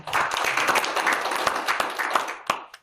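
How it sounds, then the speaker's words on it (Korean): Audience clapping in a hall at a legal profession debate forum, a brisk burst of many hands that tapers off near the end. "박수 부탁드리겠습니다."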